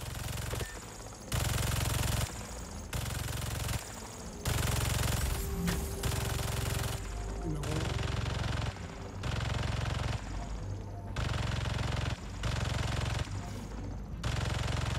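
Automated turrets in the video game Marvel's Spider-Man 2 fire in loud, sustained machine-gun bursts, each lasting about a second and separated by short pauses, repeating over and over.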